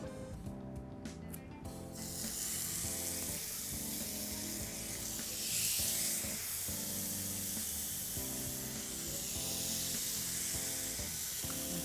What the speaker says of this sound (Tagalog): Gusto ko walang masyadong oil, gigrill natin siya.